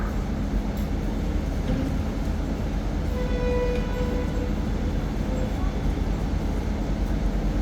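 Express train number 85 pulls out of Ban Pong station in Thailand, a steady, even rumble of wheels and carriage noise with faint tonal whines heard from inside the train.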